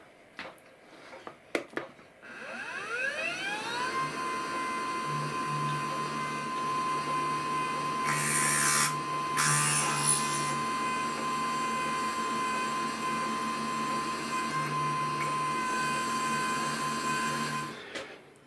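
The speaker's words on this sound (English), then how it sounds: "let's get this drilled." A drill bores a hole in an aluminium motorcycle crankcase. The motor spins up with a rising whine, then holds a steady hum with brief louder bursts as the bit cuts, and stops at the end.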